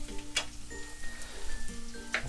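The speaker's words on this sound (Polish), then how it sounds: "mieszajcie, bo bardzo łatwo jest cebulę przypalić. My chcemy ją zeszklić, a i tak ona będzie bardzo długo się tutaj smaliła." Chopped onion fries in a pan for pilaf, a soft continuous sizzle with occasional utensil scrapes and knocks as it is stirred, fairly quiet and close, with no talk.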